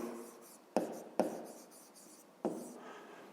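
A pen scratches across paper while someone works through a fifth-grade math exercise, giving a few sharp stroke onsets that trail into soft, steady scribbling, close and alone.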